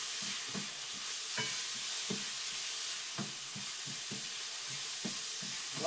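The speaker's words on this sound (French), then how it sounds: "Là, on va juste faire suer l'oignon, c'est-à-dire jusqu'à qu'il devienne translucide" Onion and chicken frying over high heat in a pan, a steady sizzle under repeated scraping stirs that come at a loose, regular rhythm.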